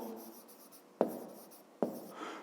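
Pen or pencil writing numbers during a math exercise, soft scratchy strokes with two sharper taps as digits are marked, close and quiet with no talking.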